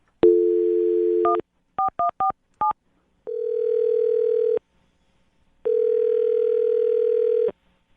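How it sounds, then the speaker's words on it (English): Telephone touch-tone dialing: a short run of distinct beeping key tones, separated by gaps, then long steady ringback tones. "I'm going to dial this phone number right now"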